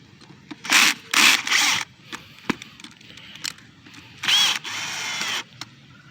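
A power drill drives screws on a Rainbird DVF irrigation valve in several short, loud whirring bursts, with a long final run, separated by quiet gaps filled with close handling clicks and scrapes.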